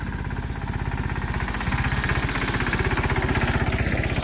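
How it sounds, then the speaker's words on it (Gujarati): A tractor engine, arriving to load sacks of onions, runs with a steady, close chugging beat that grows slightly louder and more pronounced partway through. "આપણે ટ્રેક્ટર આવી ગયું છે"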